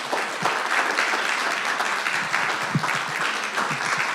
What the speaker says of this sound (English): let's give a big round of applause to Carrie